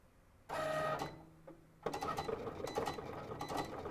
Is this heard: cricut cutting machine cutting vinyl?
yes